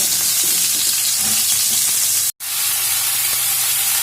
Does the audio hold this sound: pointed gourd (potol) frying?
yes